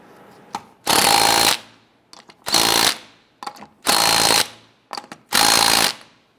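Lug nuts on a 1997–2006 Jeep Wrangler wheel get snugged down in four loud, close rattling bursts of under a second each, separated by quiet gaps with small clicks.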